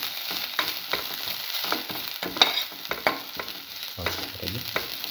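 Ginger and salt sizzling and frying in a hot pan while being stirred, with steady crackle broken by repeated scraping strokes of a utensil, close and clear with no talk.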